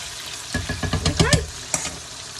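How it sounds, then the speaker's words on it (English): Homemade French fries bubble and sizzle in hot oil, with a run of clinking scrapes as they are stirred around in the pan, close and lively, and no talking over it. "I'm just going to drop them in real gently and move them around."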